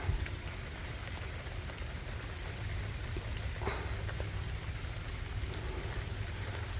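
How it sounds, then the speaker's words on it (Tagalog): Rain falls steadily all around a vegetable garden, a constant close hiss of drops pattering on surfaces and leaves. "Umuulan."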